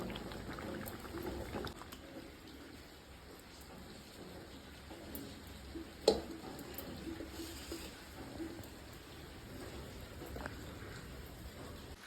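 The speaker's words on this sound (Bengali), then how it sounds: "এইটাকে আমি পাঁচ মিনিট ভালো করে ফুটিয়ে নেব" Dal simmering at a strong boil in a pot on a gas stove, a steady soft bubbling and seething texture that runs throughout, with one brief clink near the middle.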